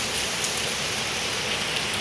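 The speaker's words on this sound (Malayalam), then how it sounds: "അത് കൂടി വെള്ളം പോകണത് കണ്ടാൽ തന്നെ നമുക്കറിയാം എന്തുമാതിരി മഴ പെയ്യുന്നുണ്ടെന്ന്" Heavy monsoon rain pours down steadily at a house in Kerala, a dense, even hiss of drops on surfaces with no gaps or voices.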